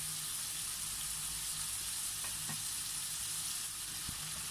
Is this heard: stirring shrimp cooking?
yes